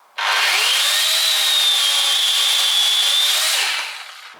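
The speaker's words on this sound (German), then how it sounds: "Ich trenne einmal hier noch den Ast ab" A battery-powered chainsaw cuts off a tree branch, running at a steady high pitch for about three and a half seconds before winding down; loud and close, with no talking.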